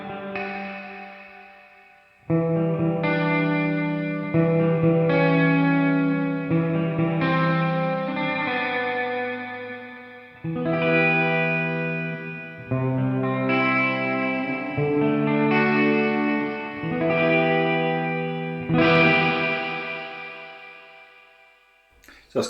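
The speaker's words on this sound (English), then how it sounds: "I like plate reverbs when I'm recording clean acoustic guitars." A clean acoustic guitar plays chords drenched in plate reverb, each strum ringing out into a smooth, even wash of sustained tail before the next chord starts.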